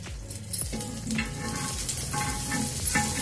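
Butter and beaten egg frying on a dosa in a hot pan give a steady close sizzle, a dense crackling hiss that runs without a break, with a few soft scraping touches from a utensil and no talk.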